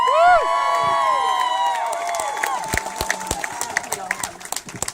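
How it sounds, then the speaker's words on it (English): Rally crowd for Bernie cheering and whooping for a speaker, loud shouts at first settling into scattered claps and calls nearby. "Everyone give a cheer for Rosalyn."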